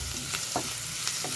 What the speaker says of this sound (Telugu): ఇలా స్టవ్ పై ప్యాన్ పెట్టేసుకొని ఆనియన్స్ వేసుకున్నాను. కాస్త దూరగా వేగినాయి.